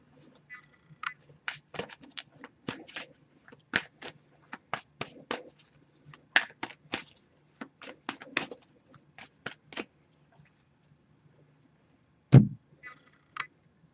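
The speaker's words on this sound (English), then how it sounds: "I'm just going to give this a few more shuffles, then we'll put the deck down, cut the deck, and pull a card." A deck of oracle cards is shuffled and handled up close, giving quiet, crisp riffles and flicks in uneven bursts, then a pause and a soft thud as the deck is set down and cut.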